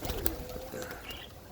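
Birmingham roller pigeons coo softly inside a loft, a brief low murmur with faint bird calls and rustling.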